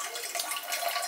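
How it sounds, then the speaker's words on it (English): Tap water runs steadily into a pot, a brief hissing splash heard close up with no talking. "I'm filling up a pot with water"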